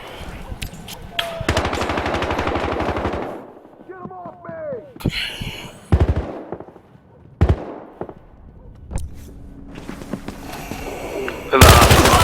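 Gunfire in the Battlefield Hardline video game: several sharp, loud bursts, from rapid automatic fire to single cracks, with clicks and effects between them, while players talk over the action.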